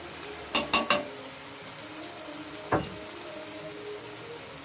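Onion and masala spices (garam masala, coriander powder, chilli powder, turmeric) frying in oil in a pan for paneer bhurji, with a steady faint sizzle, a few quick clinks of stirring near the start and one more later, no talk.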